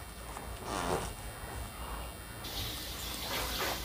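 Chopped vegetables are washed under a running kitchen tap, a steady rush of water with splashy swells as hands move the pieces about.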